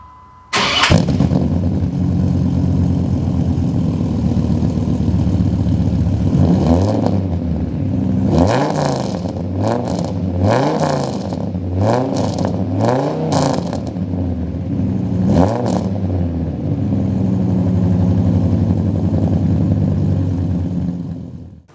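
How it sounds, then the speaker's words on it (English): A Dodge Ram SRT-10 pickup's V10 engine cranks and catches, then settles into a loud, steady idle broken by a run of sharp throttle blips and revs before easing back to idle, close and alone with no talking. "you're gonna know what the Dodge V10 sounds like"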